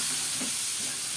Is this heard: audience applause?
no